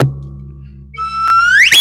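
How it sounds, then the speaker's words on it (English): A whistle is blown once, a shrill tone that climbs steadily in pitch over about a second, close and fairly loud above a steady low hum. "where's my whistle?"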